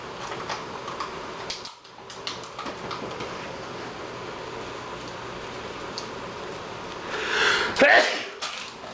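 A single sharp sneeze near the end, rising out of a steady background rumble.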